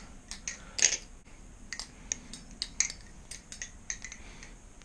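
A folding knife fitted with swapped Marin Light handles is flipped open and shut repeatedly, giving a run of sharp metallic clicks and snaps at irregular intervals, close and fairly quiet.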